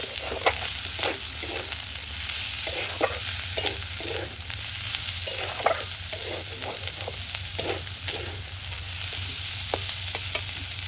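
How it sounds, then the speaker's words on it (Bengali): Chili powder frying in hot oil in a pan while fish oil is cooked, a steady sizzle with scattered stirring scrapes and clicks throughout, close and continuous, no voices. "আর দেব অল্প লঙ্কা গুঁড়ো, এটাকেও ভালো করে ভেজে নেব।"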